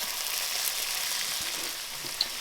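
Burger patties fry in butter in a pan, giving a steady, close, hissing sizzle that runs without a break, with only a couple of faint pops and no talking.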